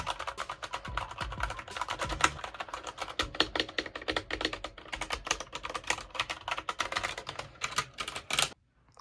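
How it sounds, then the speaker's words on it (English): Rapid typing on a computer keyboard in a gaming setup, a dense, steady patter of clicky keystrokes close up, continuing for several seconds and stopping abruptly, with no one talking. "Let's do some quick keyboard ASMR."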